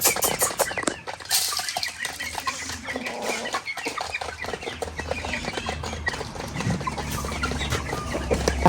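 A rooster being caught, with repeated clucks and squawks, bursts of wing flapping and scuffling close by, busy and uneven throughout with no talk.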